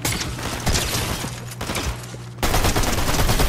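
Dense automatic gunfire crackles loudly and continuously in a shooter video game, the rapid bursts shifting in intensity partway through, heard up close with no talk over them.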